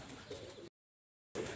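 Pigeons coo softly and close by while bathing in a water bowl on a rooftop, with a brief gap of silence between two short bursts.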